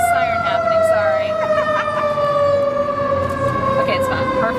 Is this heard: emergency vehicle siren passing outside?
yes